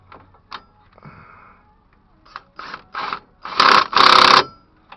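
A bolt being tightened by hand while installing a brake rotor on a Ford, heard as short bursts of ratcheting and mechanical clicking that grow louder and longer toward the end, with no speech.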